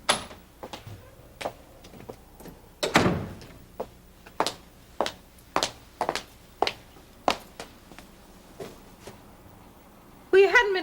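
An unlocked house door opens as a visitor walks in, with a string of hard thuds and knocks spaced through the clip at moderate loudness, ending in a louder burst.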